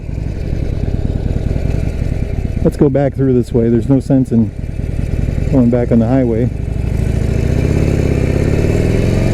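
A Harley-Davidson Sportster Forty-Eight motorcycle engine with stock EPA exhaust rumbles with a deep, gravelly growl throughout, steady and close, while someone talks over it in two stretches.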